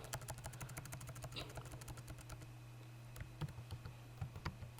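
Typing on a computer keyboard, a rapid close burst of key clicks at first, then sparser separate keystrokes against a faint steady hum, without speech.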